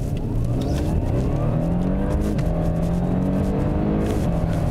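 A 2019 Audi A6 accelerates hard from a standstill under launch control, its engine note climbing steadily and loudly through the gears with a continuous close-up roar and no talking.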